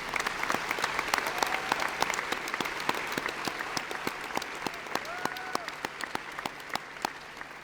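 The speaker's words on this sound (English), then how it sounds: "let's give a big round of applause for our faculty" An audience at the Arkansas Governor's School welcome gives the faculty sustained applause, an even patter of many hands with a few voices and whoops mixed in, holding steady throughout.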